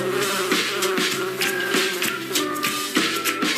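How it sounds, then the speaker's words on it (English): Bees from a backyard colony buzz in a close, steady drone with wavering pitch, joined by soft rhythmic knocks every half second or so. "With the recent bee shortage, I'm keeping a colony of bees right in my backyard."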